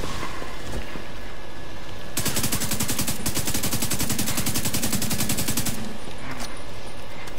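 Sustained automatic gunfire in The Division 2 during a control point fight, a dense rapid burst of shots lasting several seconds over steady game background noise, with a few scattered shots after.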